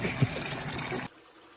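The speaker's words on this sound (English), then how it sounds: "we're filling up from a natural spring" Water from a natural spring splashes and trickles steadily into a container for about a second, then cuts off abruptly to near silence.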